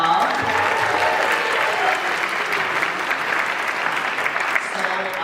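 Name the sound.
audience applause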